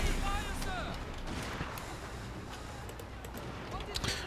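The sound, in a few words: gunfire in Total War Shogun 2 video game battle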